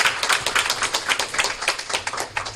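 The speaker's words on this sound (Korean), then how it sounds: "박수 한번." A church audience applauds a newly ordained pastor from Samyang Church, steady dense clapping from many hands sustained across the whole moment without voices.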